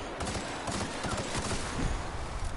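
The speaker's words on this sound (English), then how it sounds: "Gunfire's coming from everywhere." Sustained gunfire rattles from the video game The Outer Worlds, a dense, continuous stream of overlapping shots and bursts with no pause.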